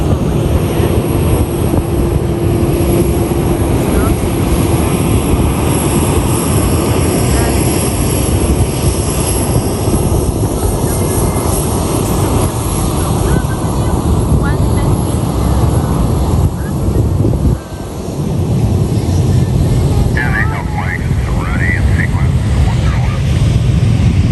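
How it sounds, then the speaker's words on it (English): An American Airlines jet flying past near an airport, a loud, continuous roar with wind buffeting the microphone throughout and a brief dip near the end. "I'm showing the American airline now. American airline just go past."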